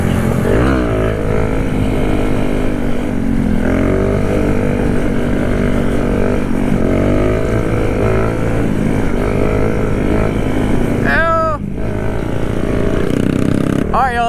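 A Kawasaki Z125 mini motorcycle pulls a wheelie close by. Its engine revs in sustained rising and falling sweeps and ends with a quick sharp blip, all under heavy wind buffeting.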